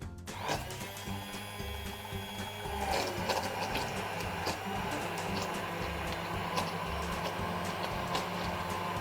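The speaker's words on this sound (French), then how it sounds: "on va pouvoir mixer pour homogénéiser le tout" A mixer whirs steadily and loudly for several seconds, blending Mont Blanc tart cream with gelatin and alcohol, with a sustained mechanical grind and slight shifts in pitch.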